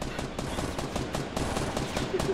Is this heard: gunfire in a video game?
yes